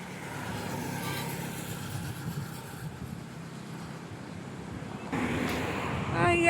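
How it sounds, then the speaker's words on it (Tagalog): Occasional vehicles pass along a quiet road on a hot Holy Thursday morning, a steady low traffic rumble rising as one draws nearer toward the end, with a person talking faintly in the background. "Iilan lang po yung dumadaan na sasakyan."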